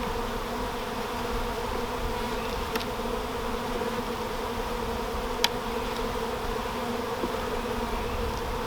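Honey bees buzzing steadily around an open hive during an early-season inspection, a dense, continuous hum close by with a couple of brief clicks, no voices.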